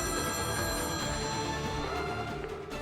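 A telephone rings continuously in a domestic drama scene, a steady electronic bell tone with layered harmonic ringing, loud and close, with no voices over it.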